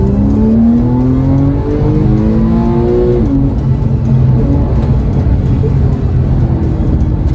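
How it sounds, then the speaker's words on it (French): A Porsche 911 Carrera 4S with a PDK gearbox accelerates hard, its engine note rising loud and close, then dropping at a quick upshift before it climbs again with a steady roar. "la voiture vous catapulte dans des vitesses qui sont absolument folles"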